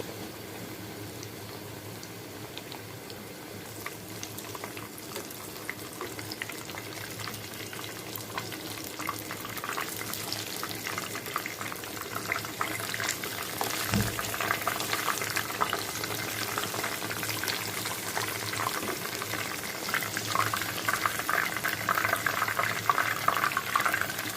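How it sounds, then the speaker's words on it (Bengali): Chicken frying in hot oil over medium-low heat, a steady close sizzle and crackle that swells slightly louder over time, with no talking. "আমি ছেড়ে দিলাম একটা চিকেন। মিডিয়াম টু লো আছে আমি এটা ভাজবো।"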